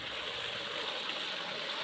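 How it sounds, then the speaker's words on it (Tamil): Irrigation water pouring into the inlet of a paddy field on an organic farm, a continuous close rushing flow with a steady hiss and no voices. "இப்போ பாருங்கள், ஒரு வயலோட வாய்ப்பகுதியில் தண்ணி ஊற்றிக்கிட்டு இருக்குது."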